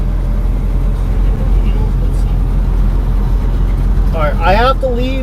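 A truck engine is left idling in a low, steady rumble close by, with a person talking over it, the speech growing louder and clearer toward the end.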